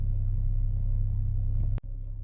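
Hyundai Staria Tourer nine-seater with an LPG engine idling just after starting, a low steady rumble with a regular throb heard from inside the cabin, briefly interrupted by a sharp click.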